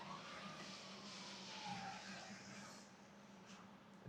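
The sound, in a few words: car passing by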